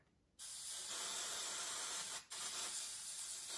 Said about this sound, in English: You can kind of hear how much spray I'm using.